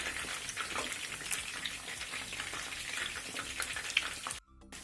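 Torrijas, slices of bread soaked for a flan-style batter, sizzle and crackle in hot oil in a frying pan, a dense steady spatter nearby that cuts out abruptly right at the end.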